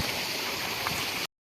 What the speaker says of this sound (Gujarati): હા જાય છે આપણા ઘઉંમાં પાણી